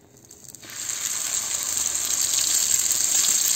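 Green bean patties (tortitas de ejotes) start frying in hot oil, a bright steady sizzle that swells up suddenly after a quiet moment and keeps going, close and loud.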